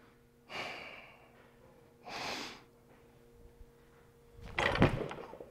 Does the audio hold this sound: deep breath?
yes